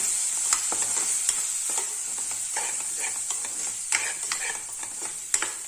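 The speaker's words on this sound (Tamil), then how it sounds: "மிளகாய் தூள் மல்லித்தூள் ஜீரகத்தூள் கரம் மசாலா வெள்ளத்தையும் சேர்த்து நல்லா வதக்கி விட்டுடலாம்" Ground spices, including chili, coriander, cumin and garam masala, sizzle and sauté in a hot pan for meal maker curry while a spoon stirs and scrapes, giving irregular clicks and taps over the steady frying hiss.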